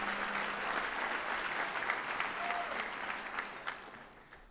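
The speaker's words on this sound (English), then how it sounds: "give yourselves a loud, resounding, strong round of applause" Audience applause fills a conference hall at the NCRC 2016 Conference, a steady, sustained wash of clapping from a large crowd that holds evenly throughout with a few sharper claps near the end.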